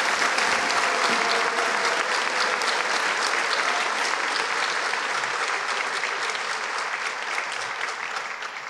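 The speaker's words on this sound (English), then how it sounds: "One more big round of applause for these recipients." An audience at a high school senior awards night gives scholarship recipients a loud, sustained round of applause, dense clapping from many hands that continues evenly before easing slightly near the end.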